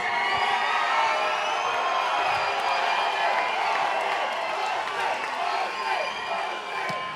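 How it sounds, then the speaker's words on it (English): A big crowd at a SteelFist fight-night event roars and cheers steadily, with whoops and scattered clapping filling the room for the whole stretch at a fairly constant level. "And it sounds like you got a big crowd out here, Austin."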